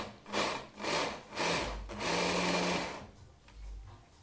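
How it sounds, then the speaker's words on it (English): A blender pulses ingredients to a fine mince for a beef short rib spit braai recipe: several short whirring bursts followed by a longer run, then it stops and goes quiet. "blitz this up, you don't want to make a paste. You just want it to be uh, finely minced."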